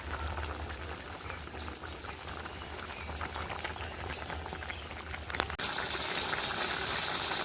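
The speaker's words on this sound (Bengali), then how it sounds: "তরকারিটা একটু ফুটে গেছে, এবার দিয়ে দেবো ভেজে রাখা মাছের টুকরো।" A thin fish and potato curry simmers in a pot, giving a steady close bubbling hiss that holds evenly throughout and turns brighter and louder toward the end.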